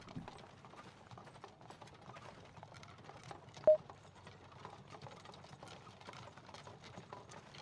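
Horse hoofbeats in a video game, faint rapid clip-clop patter running steadily throughout, with one brief sharp blip midway.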